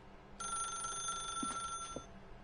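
A telephone in The Stanley Parable video game rings with a steady electronic bell tone, heard at moderate volume over a faint background hum with a couple of soft knocks, and no speech.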